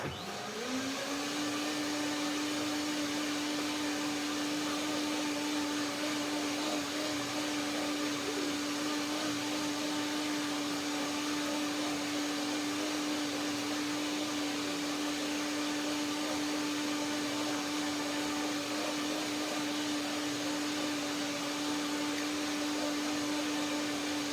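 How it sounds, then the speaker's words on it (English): A blender whirs continuously while puréeing soaked cashews for yogurt, a steady, even motor drone that holds at constant pitch and loudness throughout. "So one more time, one more blender dance."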